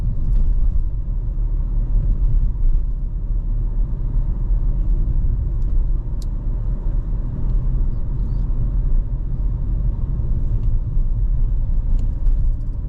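A car driving along a main street in Hua Hin, Thailand, heard from inside as a steady low engine and road rumble with no talk.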